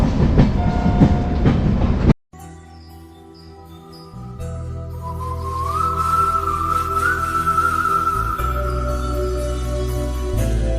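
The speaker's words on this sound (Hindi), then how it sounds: "हमारी ट्रेन अमृतसर से 4:45 AM चल चुकी है।" The Amritsar–New Delhi Shatabdi express rolls along the rails, a steady low rumble of the carriages with rhythmic clatter of the wheels and a sustained whistle-like tone rising and holding, heard from inside the coach after a brief cut.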